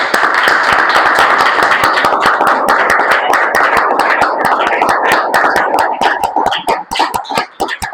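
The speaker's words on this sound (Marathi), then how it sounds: "आपण प्रभूसाठी आपल्या टाळ्या वाजवू." Church congregation clapping hands together in worship, a dense steady rhythmic applause filling the space, loud and close throughout, thinning slightly toward the end.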